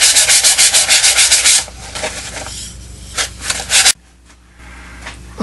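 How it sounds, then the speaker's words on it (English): Pieces of a wooden rubber band gun are sanded by hand in quick, loud rhythmic rasping strokes at first, then softer and more irregular rubbing that ends in near quiet. "Give the pieces a nice sanding before you assemble them."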